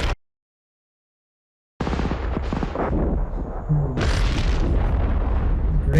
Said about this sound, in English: Grenades going everywhere.